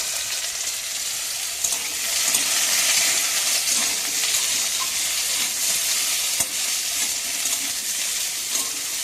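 Potatoes and taro in hot oil, with onion and panch phoron spices, fry with a loud, continuous, close-up sizzle, broken by occasional soft stirring clicks.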